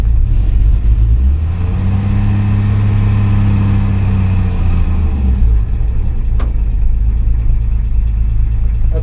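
Car engine in an older car stumbling and stuttering as it takes off, a loud, close low rumble that rises and falls unevenly with revving, then settles into a steady drone.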